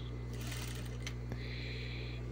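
Sewing machine running steadily while stitching elastic around the waistband of children's underwear, a close, continuous mechanical hum with a brief click partway through.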